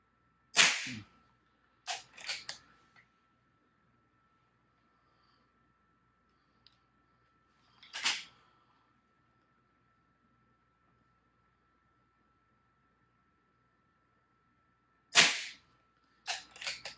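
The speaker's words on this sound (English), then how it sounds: "For an inexpensive air gun, it just shoots really well" Inexpensive air gun shots, Diana or Artemis type, five sharp cracks spaced irregularly over seventeen seconds, with a steady faint hum between them.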